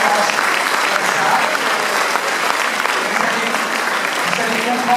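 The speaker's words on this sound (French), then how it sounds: "Je vous demande même de l'applaudir parce que c'est grâce à elle qu'on avance comme ça." Audience applause for researcher Irène Ceballos during a rare-disease alliance concert speech, steady loud clapping from a large crowd throughout, with some voices mixed in.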